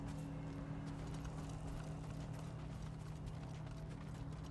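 Horse hooves clip-clop in a video game set around a Mongol-held stronghold, a steady, muffled stream of hoofbeats over a low droning background at a fairly faint level.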